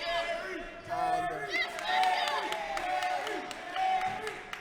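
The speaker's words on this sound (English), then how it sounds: "every time Jerry shoots, you can hear the crowd erupting" Spectators at a men's netball club championship third-place match raise a lively, moderately distant swell of cheers and voices that rises and falls in bursts, while commentary speech runs over it.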